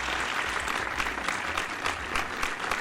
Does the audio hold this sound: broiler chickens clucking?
no